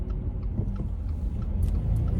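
Road traffic passes nearby as a continuous low rumble and engine drone that swells slightly toward the end, with no voices over it.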